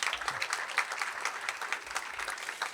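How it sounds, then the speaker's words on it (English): A graduation audience gives itself a round of applause, a continuous, moderately distant wash of many hands clapping with scattered sharper claps, holding steady throughout. "Give yourselves a hand clap"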